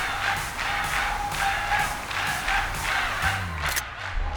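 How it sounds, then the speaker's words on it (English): A loud, dense crowd cheering and roaring continuously in Pokémon Scarlet/Violet, a sustained wall of voices with rising shouts throughout and a brief cutoff near the end. "This crowd's so loud it could wake the dead."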